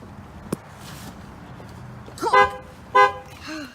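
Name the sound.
car horn of a 2016 Dodge Grand Caravan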